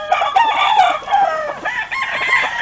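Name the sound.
makling rooster crowing at a game farm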